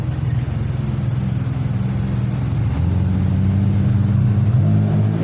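A Jaguar car engine rumbles loudly and steadily nearby, with a deep continuous drone that rises slightly partway through and carries on with no talking.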